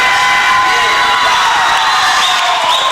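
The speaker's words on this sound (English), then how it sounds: "Please give a big round of applause to your by-district champions." A large crowd at a high school district championship game cheers and whoops loudly and steadily, with applause blended into a continuous roar.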